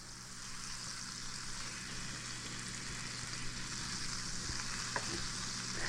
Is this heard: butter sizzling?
yes